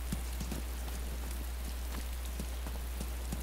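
Rain falling in the DayZ video game, an even wash of patter with scattered distinct drips landing nearby, over a steady low drone, without any voices.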